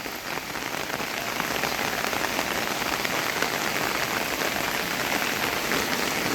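Steady rain pours onto a hard surface in front of a house, a dense continuous patter of drops with no voices, even in loudness throughout.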